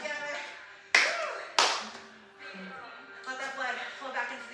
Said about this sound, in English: it's like you can't even clap for yourself